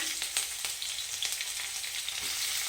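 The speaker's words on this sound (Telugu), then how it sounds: "ఆయిల్ వేడైన తర్వాత కాస్త జీలకర్ర వేసుకుని పచ్చిమిరపకాయ ముక్కలు వేసుకుని" Cumin seeds and green chilli pieces fry in hot oil with a steady, close sizzle and scattered crackling pops, with no talking.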